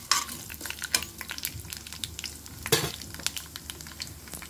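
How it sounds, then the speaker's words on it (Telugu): Dried red chillies and tempering spices crackle and sizzle in hot oil for ivy gourd chutney, with irregular pops and spits over a steady frying hiss, close and moderately quiet, with no talking. "ముందుగా ఎండుమిర్చి వేసుకుంటున్నాను, కొన్ని పోపులు వేసుకుంటున్నాను"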